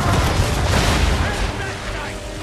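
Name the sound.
ship cannons firing in video game Assassin's Creed 3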